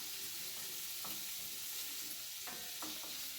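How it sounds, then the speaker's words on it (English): Butter melts and sizzles in a cast iron pan, a steady close frying hiss broken by a few scraping stirs as it is moved around. "You're going to saute this butter all around, make sure it melts in the pan."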